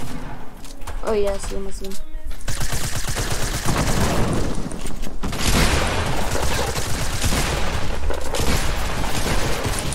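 Gunfire in the Fortnite battle royale video game, rapid bursts and volleys of shots with booming impacts throughout, while players talk excitedly over the shooting.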